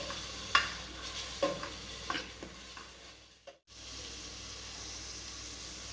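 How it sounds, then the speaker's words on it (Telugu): A paste of tomato, coriander and green chili fries with onions for a chicken curry, giving a steady close sizzle broken by a few sharp spoon-on-pan stirring clicks and a brief quiet gap before the frying resumes. "ఇది బాగా మిక్స్ చేసి ఒక 2 to 3 మినిట్స్ ఫ్రై అవనివ్వాలి."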